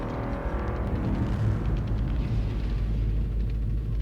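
Continuous deep rumbling and grinding as a wall cracks and breaks apart in the Halo Forge video game, steady and loud throughout with no pauses.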